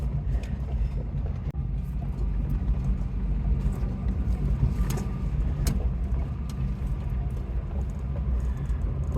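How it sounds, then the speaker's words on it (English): A tough little truck labors along a winding mountain road near Mono Lake, its engine a steady close drone with rumble and rattling bumps throughout, no talk. "Well, you got one tough little truck here, Rob."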